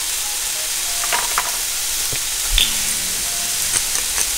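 Cauliflower seasoned with salt frying in a pan gives a steady, close sizzle with scattered crackles and pops throughout, and no one speaks.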